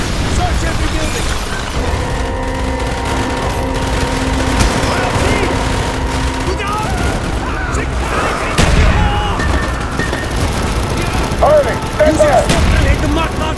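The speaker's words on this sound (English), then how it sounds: "You was killed by your own mortar strike." Mortar strikes and gunfire in the Call of Duty Black Ops campaign mission Project Nova, with booming explosions and rapid weapon fire rolling on continuously and loudly, heavier blasts punching through near the end.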